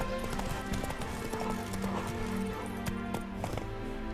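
Roach, the horse in The Witcher 3, gallops in quick rhythmic hoofbeats that stay close and steady throughout, with game music and effects beneath.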